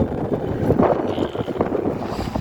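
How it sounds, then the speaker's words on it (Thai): Strong wind buffets the microphone in gusts while riding in an open shuttle vehicle at a temple, a steady rushing roar with no talking. "นั่งรถเลยว่าโอ้ย ลมแรง"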